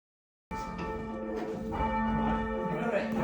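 A church bell at St Saviour's, one of eight, rings with a rich, sustained tone as it is tested individually after restoration, its overtones hanging in the air as the strikes blend together and build slightly louder.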